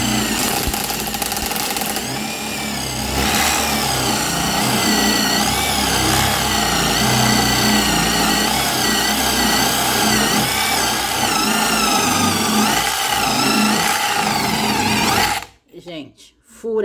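A cordless 48V impact driver drilling a hole runs continuously for about fifteen seconds, a steady loud whirring drone with a high-pitched whine, then cuts off abruptly near the end.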